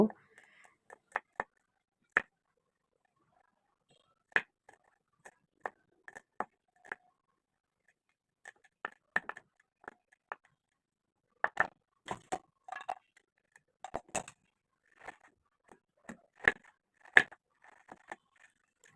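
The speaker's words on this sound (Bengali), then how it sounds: "কয়েক পিস রসুন, একটুখানি আদা, এগুলোকে আমি ভালোভাবে কুচি কুচি করে কেটে নিব" Garlic and ginger are finely chopped with a knife on a board, sparse crisp taps that come singly or in quick clusters, with quiet gaps between them.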